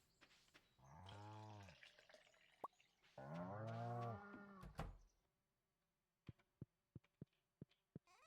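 Cow in the farming game Stardew Valley, two long low moos in a row, then a quick series of short sharp clicks and taps, all quiet and without talk.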